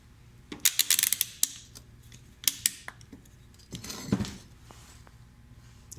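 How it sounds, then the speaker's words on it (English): Bremen plastic clamp pliers from Harbor Freight give several quick ratcheting clicks in clusters as they lock, close and crisp, with light handling noise between bursts. "They lock. Little ratcheting"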